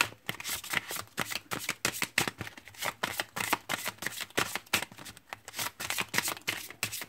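Tarot cards being shuffled and drawn by hand: a steady run of crisp, close flicks and slaps of card stock, packed in rapid bursts for several seconds, with no one talking.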